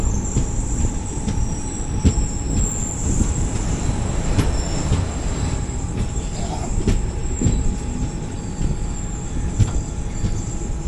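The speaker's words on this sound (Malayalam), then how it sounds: "നമ്മളങ്ങനെ കൊല്ലം ജംഗ്ഷനിലേക്ക് കയറുന്നു." A passenger train rolls into Kollam Junction station onto a new platform in Kerala, India, with a loud continuous rumble, rhythmic wheel clacks and a thin high squeal of wheels on rail.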